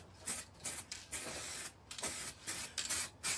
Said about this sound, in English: the Halfords cans are quite highly pressurised, so they really will push the paint on very quick, very fast